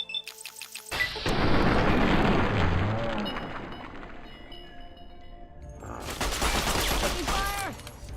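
Heavy video game gunfire roars as a dense, sustained volley for several seconds, eases off, then a second loud burst follows. Faint voices sit underneath.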